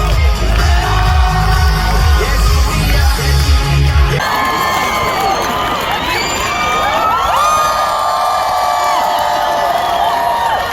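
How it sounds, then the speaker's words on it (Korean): Outdoor festival crowd in Gwacheon cheers, whoops and shouts loudly throughout, with children's voices prominent and a deep pulsing bass under the first few seconds before the cheering continues alone. "여러분 박수 한번 주세요."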